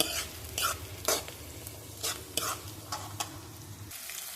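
Green chillies fry in a pan for tuna puttu, a steady sizzle broken by a series of sharp scraping stirs, close and fairly loud, with no voices.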